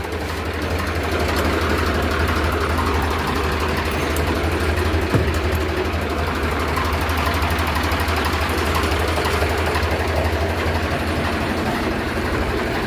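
A tractor engine runs steadily while ploughing a field, a loud, continuous low rumble that holds an even level from start to finish with no pauses.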